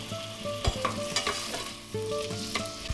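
Onion frying in olive oil in a saucepan, a steady close sizzle with scraping stir strokes and clinks of the utensil against the pan throughout.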